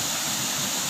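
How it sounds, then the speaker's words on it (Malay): Steady broadband rush of a waterfall at a rocky river picnic spot in Sungai Karak, a continuous even roar with no voices over it. "Nampak tak air terjun tu?"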